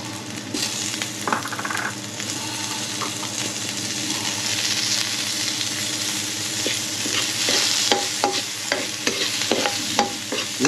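Garlic fries in margarine in a pan, a steady sizzle with repeated scraping stirs from a utensil, close and fairly loud, with no talking.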